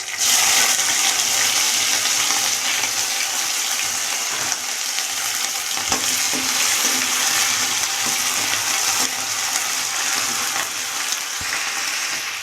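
Ground tomato paste hitting cumin seeds in hot oil, a loud, continuous hiss and sizzle held close throughout, with faint clicks of stirring and no voices.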